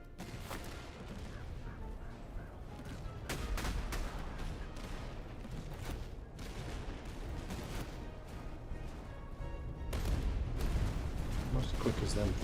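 Massed musket volleys from soldiers and peasants clash in a Prussian-era strategy video game, a dense, continuous rattle of gunfire with heavier bursts, running loud throughout with no talk over it.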